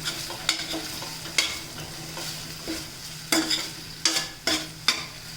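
Prawns frying in a pan with garam masala, a soft steady sizzle close by, broken by several sharp scrapes and clacks of a spoon stirring against the metal pan.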